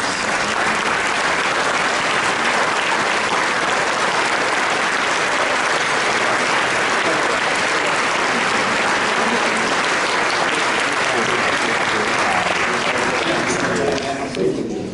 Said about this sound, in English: I don't know if they can stand up for a moment and give them a round of applause